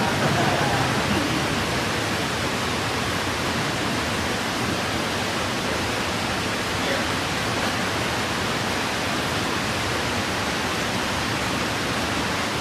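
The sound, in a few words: rain during a mosque lecture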